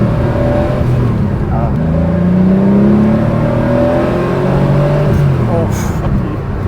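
A 1974 Porsche 911 2.7 RS engine pulling hard under acceleration, a loud rising engine note with gear-change dips, heard from inside the car while people talk over it.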